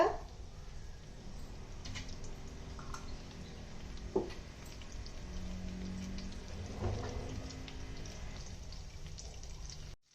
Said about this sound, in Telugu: ఇవాళ వర్షం ఇక్కడ పడుతుందండి.